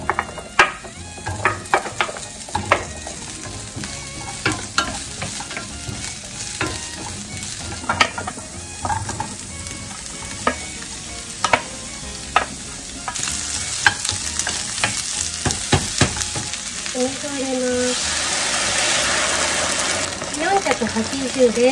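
Carrots sauté in a little oil in a pan for Japanese nikujaga, a steady close sizzle broken by frequent clattering scrapes and knocks as they are stirred.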